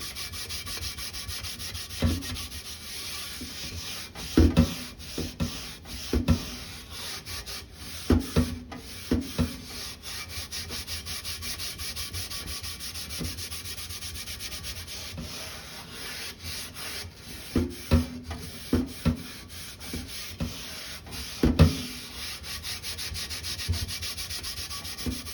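Rust being scrubbed off a cast iron skillet during restoration, a steady rough rubbing with repeated louder scraping strokes, close and alone with no talk.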